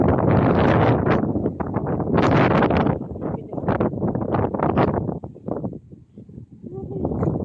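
Strong wind buffets the microphone in loud, gusty roaring bursts throughout, rising and falling without pause.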